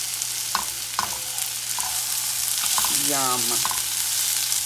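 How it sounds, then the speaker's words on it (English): Tortillas and onions frying in a pan for migas, a steady broadband sizzle running throughout with a few soft utensil scrapes and a brief spoken word near the end. "You can see my tortillas are starting to brown a little bit."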